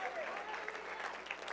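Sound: church congregation clapping

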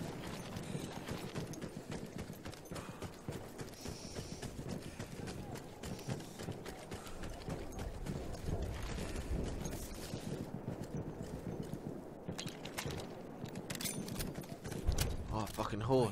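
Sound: horse hooves clip-clopping in video game Battlefield 1

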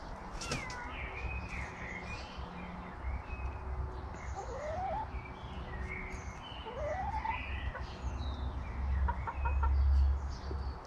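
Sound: hens clucking

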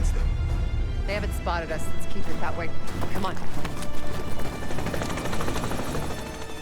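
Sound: military helicopters flying overhead in Call of Duty Black Ops 6 video game

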